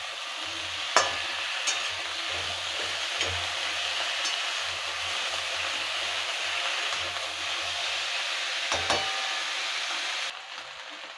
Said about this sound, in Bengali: এটা ভালো করে একটু ভেজে নেবো